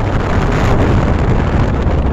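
Strong wind buffets the microphone in a steady, loud roar with no break throughout, and no voice rises above it.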